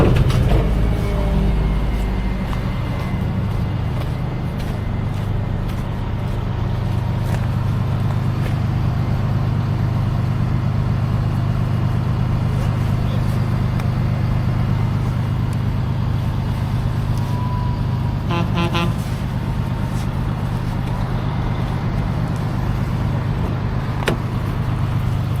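A car being driven up onto the bed of a tow truck, a steady low vehicle rumble running throughout with a brief clatter near the end, no talking.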